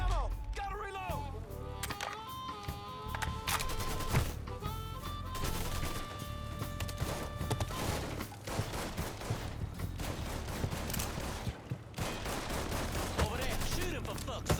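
Gunfire rattles through a Mafia III shootout in repeated loud bursts and single shots over a steady music bed, while someone talks over the fighting.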